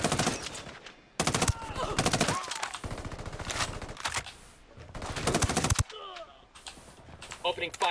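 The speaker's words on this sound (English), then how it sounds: "Opening fire on these fuckers." Rapid automatic gunfire bursts from a PC shooter game, loud and close, with game character voices talking between and over the shooting.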